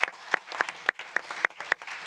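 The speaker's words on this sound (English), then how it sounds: "let's give them a round of applause" Sparse, distinct claps at a FII Priority conference in Rome as panelists are thanked, individual hand claps spaced at a steady rhythm rather than a full crowd ovation.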